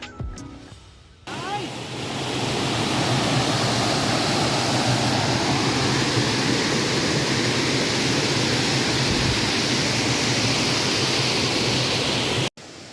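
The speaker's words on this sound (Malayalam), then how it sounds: "വെള്ളച്ചാട്ടത്തിൻ്റെ ഒഴുക്ക് കണ്ടാൽ അറിയാലോ അതിശക്തമായിട്ടാണ് ഒഴുകുന്നത്" A powerful waterfall at a viewpoint in Idukki gives a loud, steady, broadband roar with no breaks. It fills nearly the whole stretch after a brief quieter start.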